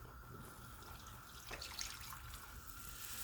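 Milk poured into an au gratin pan on the stove for a Yukon potato and butternut squash au gratin, a soft steady liquid stream and splash, faint and close, with no talking.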